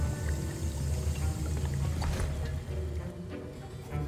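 Liquid stirred and sloshing in a potion cauldron during a Hogwarts Legacy potions class, a steady watery churn held under continuous game music with no talk.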